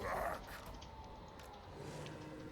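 Dogs barking and yipping amid the clash of a Total War: Warhammer II battle, moderately close over a dense, steady wash of combat noise.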